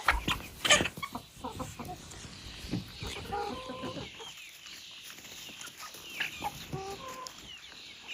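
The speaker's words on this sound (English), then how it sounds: "The hens are happily pecking at it from that side." Hens cluck and murmur while pecking outdoors on freshly mowed grass, with scattered nearby clucks, a few sharper calls early on and soft rustling between them.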